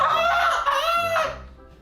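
A person imitates bird noises with the voice, a loud, shrill, wavering crow-like call held for over a second, then a second rising cry that fades out, heard alone up close.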